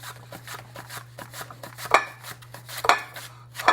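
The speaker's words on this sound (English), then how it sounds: "I'm going to take an onion and use this mandolin because I really want the onion kind of thin" Onion sliced thin on a mandoline, a quick regular series of short scraping strokes near and clear, with a few louder clattering hits, over a steady low electrical hum and no talking.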